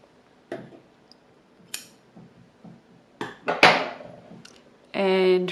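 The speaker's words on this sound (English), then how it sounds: "Then I'm just going to cut my yarn" Scissors cut knitting yarn close by, a few sharp snips and metallic clicks among light handling noises, ending with a brief voice.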